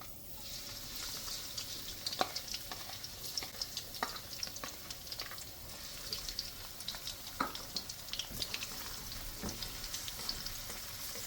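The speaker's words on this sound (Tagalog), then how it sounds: "Magpainit tayo ng mantika at una natin ilagay ang ating bawang." Chopped garlic sautéing in hot cooking oil in a pan, a steady low sizzle with scattered soft pops and crackles throughout, close and fairly quiet, with no talking.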